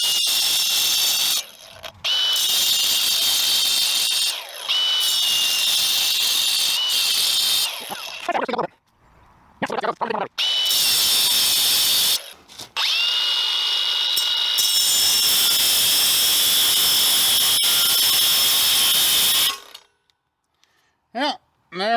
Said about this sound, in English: I may try it on the 4-inch grinder first and go from there